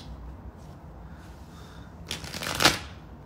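A brief burst of card shuffling, a quick ruffling flutter about a second long over a quiet room background.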